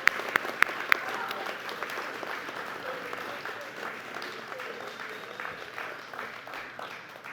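A commencement audience applauds its graduates with steady, moderately loud clapping that carries on through the whole stretch, a few sharp claps standing out near the start.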